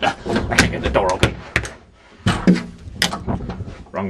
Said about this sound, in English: Oh, I can't get the door open.